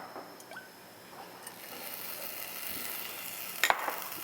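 Bracken fern marinated in soy sauce fries in perilla oil in a pan over low heat, giving a faint, steady sizzle with a few scraping stirs and clicks close by.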